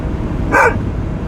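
A dog gives a single short, loud bark close by, standing alone over a low background rumble.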